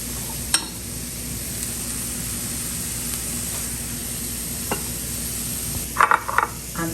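Half a cup of millet going into a hot skillet: a steady hiss of sizzling with a couple of faint taps, then a brief rattling cluster of grains near the end.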